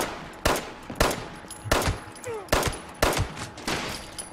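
Rapid bursts of gunfire in the online shooter Fallout 76, a string of sharp loud shots fired in quick volleys about every half second, with brief gaps between them.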